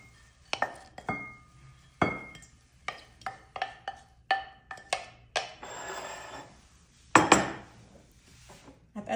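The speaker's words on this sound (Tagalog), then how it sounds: "Ayan, mimix ko siya ng mabuti para ma-mix dito sa parsley yung sauce." Utensils clink and scrape against a bowl while tabbouleh of parsley, tomato, oil, lemon juice, cinnamon and salt is tossed, a series of close, sharp taps and chinks at an irregular rhythm, with no talking.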